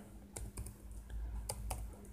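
Typing on a computer keyboard, with a handful of faint, scattered key clicks at an uneven pace over a low steady hum.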